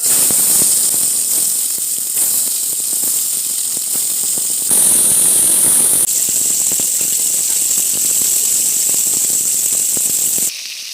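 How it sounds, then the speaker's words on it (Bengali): Rohu fish fries in hot oil in a kadai, a loud, dense, continuous sizzle full of fine crackles and pops, close and unbroken until it drops slightly at the end. "আমরা মাছ দিয়ে দেবো তেল"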